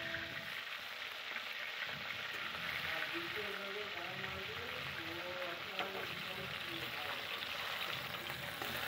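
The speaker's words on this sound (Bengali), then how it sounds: "এবার এক এক করে মাছগুলো তেলের ওপরে দিয়ে দিলাম।" Pieces of bhetki fish fry in hot oil in a pan, giving a steady, dense sizzle that stays even throughout, with faint clinks and a low voice murmuring underneath.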